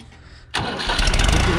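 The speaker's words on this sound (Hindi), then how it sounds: "स्टार्ट होया है, 1700 RPM ट्रैक्टर चला हुआ हो" A 2007 New Holland 3630 Plus diesel tractor cranks and fires up after a quiet moment, then settles into a loud, steady running rumble close by.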